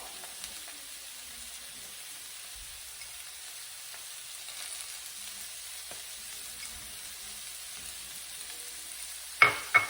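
Sweet potato frying in a pan gives a faint, steady sizzle with soft stirring scrapes, then a couple of sharp utensil knocks at the very end.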